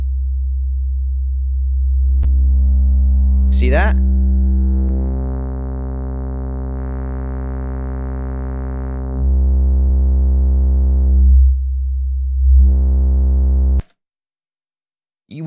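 A bass line passed through a saturation distortion plugin, a steady low tone that grows brighter as added harmonics stack above it, with the note shifting midway and a brief spoken voice near the start.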